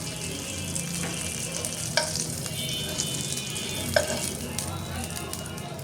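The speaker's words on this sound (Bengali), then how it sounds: "এখন প্যানের মধ্যে কাটা পেঁয়াজ, কাঁচামরিচ দিয়ে একটু ভেজে নিচ্ছি।" Chopped onion and green chilies fry steadily in hot oil in a pan, a continuous close sizzle with a couple of faint clinks of stirring.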